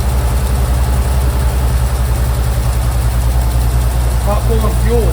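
A 1969 Chevy C30 oil field truck engine, after a head gasket replacement, idles steadily with a loud, deep, even rumble throughout; brief voices come in near the end.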